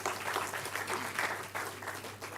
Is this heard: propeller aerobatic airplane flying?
no